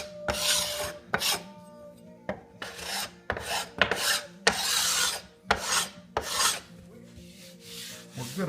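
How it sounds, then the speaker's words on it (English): A cabinet scraper shaves high spots off the wooden body of a solid-body electric guitar, making repeated raspy strokes in long and short passes, close and fairly loud, with no speech. "all you got to do is take a regular cabinet scraper, a cabinet or wood scraper,"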